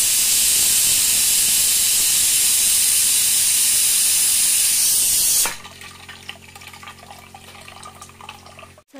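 Appalam papads frying in hot oil give a loud, dense hiss and sizzle that holds steady for about five seconds, then drops abruptly to a much quieter background with faint crackles.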